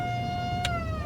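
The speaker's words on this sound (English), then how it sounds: "this is a Pierce cattle siren" A Pierce cattle siren mounted on a truck, weakened after being burned in a truck fire, sounds a brief steady wailing tone that sags slightly in pitch, loud and close.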